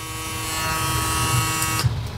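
A Vector motor hair clipper runs close by with a steady, even electric buzz and a bright whine for about two seconds before it switches off abruptly.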